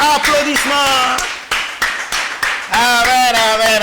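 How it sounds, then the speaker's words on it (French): A church congregation claps together in a brisk burst of applause, mixed with sustained singing or chanting voices that swell before and after the clapping. "Acclamez le Seigneur. Applaudissements."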